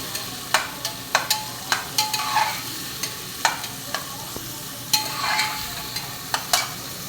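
Vegetables being stirred and mixed in a pressure cooker, with a series of crisp spoon scrapes and taps on the metal over a soft sizzle, close and moderately quiet, no voices.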